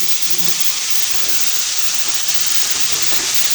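Pork sautéing with garlic, onion and tomato in a hot pan for ginisang ampalaya, a continuous loud hissing sizzle filling the moment without pause.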